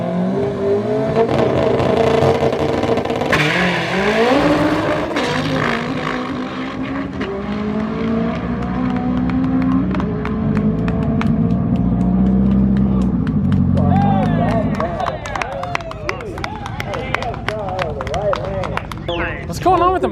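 A K20-swapped Volkswagen Beetle race car with a built engine accelerates down the track at a speed fest, its engine note climbing and shifting for about fifteen seconds before settling. Voices talk over the noise throughout.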